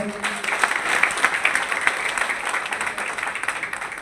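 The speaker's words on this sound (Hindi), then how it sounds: "ताली बजती है भाई" A crowd at a political party's community brotherhood gathering in a banquet hall claps steadily, a continuous crackle of many hands that stays even throughout with faint voices underneath.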